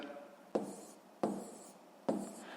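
A pen writes a multi-digit number on paper during long division, with three short scratchy bursts of strokes, each starting sharply and fading, close and fairly quiet.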